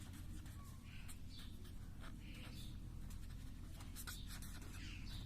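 Pen or marker scratching out handwritten notes on a board during a geometry lesson on lines and angles, a steady run of faint strokes under low room hum.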